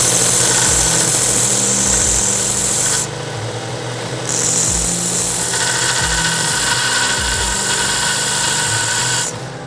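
A steel pin is faced on both sides and chamfered on a lathe, giving a loud continuous metal-cutting whine over motor drone. The sound pauses briefly partway through and then resumes. No one speaks.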